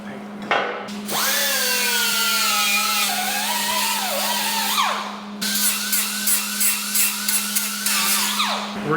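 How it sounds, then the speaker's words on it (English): Power tool grinding the ends of a metal tube and knocking off spots in a shop during a square-body truck build, a loud steady whine with rising pitch sweeps, then a run of short choppy bursts. "let me grind them spots off, then I'll remark them, but I also have to grind the ends of the tube"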